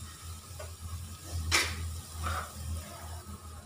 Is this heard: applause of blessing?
no